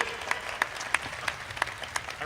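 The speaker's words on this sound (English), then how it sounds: "Now, you can clap for him." A small audience claps for a priest at a Missouri bicentennial statehood day gathering, a sparse, uneven patter of individual hand claps with distinct separate slaps, fairly soft and short-lived.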